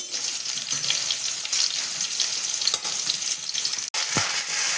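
Loud, steady sizzling of eggplant frying in hot oil, close by, with occasional soft scrapes and stirring.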